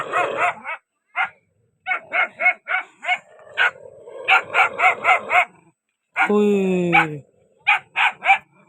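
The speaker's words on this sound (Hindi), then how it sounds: "ये जो छोटा कतूरा ना वो पहले भौंका है पहले उसने भौंका है और फिर इसके जो माँ, इसका जो बाप है जो भी है, फिर ये बोला" A puppy and adult dogs bark outdoors in a village, with short yips and barks in quick bursts, one longer whining howl partway through, and a voice faintly between them.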